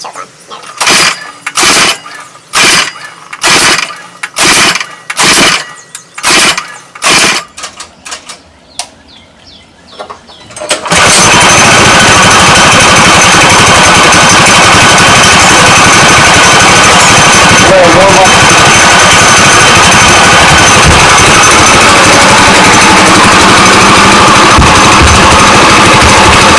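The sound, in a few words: Manco Black Fox go kart engine running after choke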